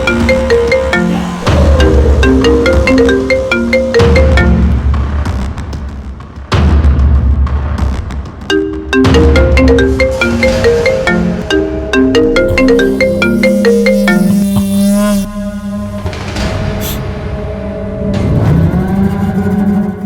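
A mobile phone ringtone plays as a loud, looping electronic melody of repeating tonal phrases, sounding continuously with brief pauses, with a rising swoosh near the end and no talking over it.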